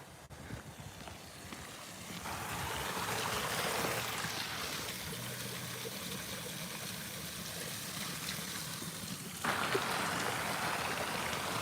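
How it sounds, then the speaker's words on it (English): Water running down a hillside stream in a renovated Japanese mountain town, a steady rushing trickle heard close and continuous, swelling slightly partway through with no voices. "Just the water running down the hill."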